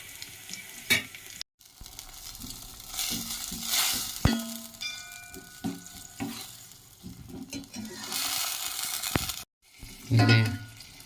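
Curry leaves sizzle in hot oil for a rasam tempering, soft crackling frying with stirring clatter and scrapes, broken by two brief silent gaps and a louder spoon knock near the end.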